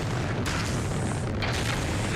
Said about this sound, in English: And when all that rocket fuel ignites,